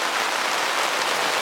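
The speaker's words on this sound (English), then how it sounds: "More heavy rain here in Cobourg. Really raining." Heavy rain pours steadily in Cobourg on Lake Ontario, a dense, even hiss of drops striking surfaces with no pauses and no voices.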